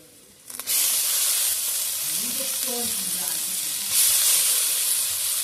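Washed masoor lentils dropped into hot oil with onions, a sudden loud burst of sizzling that settles into a steady, close frying hiss and swells again near the end.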